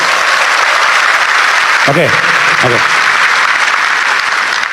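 A stand-up comedy audience at a roast show applauds loudly and steadily, a dense wash of clapping that fills the whole stretch, while someone briefly speaks over it.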